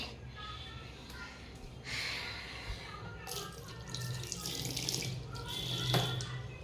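Tap water runs into a kitchen sink to soak dirty dishes, a steady splashing rush that swells midway with occasional clatter, heard close and without talking.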